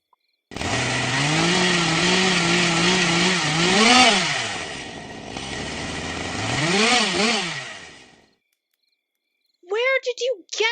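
A chainsaw runs loud and close for several seconds, its engine buzz rising and falling through two revs before cutting off, then a brief burst of higher whining sound follows.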